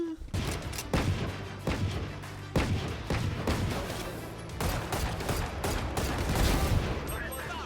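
Rapid bursts of rifle fire from Valorant, Phantom and Guardian rifles, sharp repeated shots in quick clusters with short pauses, loud and close throughout.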